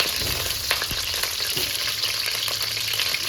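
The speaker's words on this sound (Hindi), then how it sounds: "थोड़ा सा इनको फ्राई करूँगी।" Eggs and potatoes frying in about four or five spoonfuls of oil for a layered egg-and-potato biryani, a steady close hiss of sizzling with a few soft clinks and stirring knocks, no voices.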